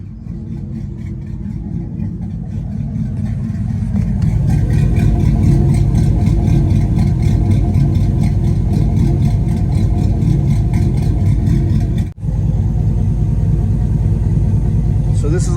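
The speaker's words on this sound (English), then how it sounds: "So this is like a stock exhaust lope." A Chevrolet Silverado pickup engine with a ghost cam tune idles close by with a rough, rhythmic lope through the stock exhaust, the rumble growing louder partway through and continuing steadily.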